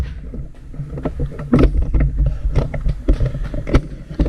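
A knife blade is hand-sanded with 320 grit sandpaper: a close, steady run of rough scraping strokes with uneven bursts of friction noise, heard alone.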